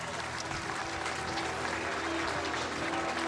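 A ballpark crowd at a Tigers versus Cardinals spring training baseball game applauds in a steady, dense, loud burst of clapping with no break.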